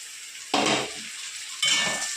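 A spoon scrapes and stirs ginger-garlic paste and chopped tomato in a sizzling pan for a silver carp curry, in two short bursts of clattering strokes separated by a quieter gentle frying hiss.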